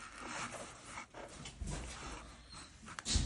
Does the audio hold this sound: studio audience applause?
no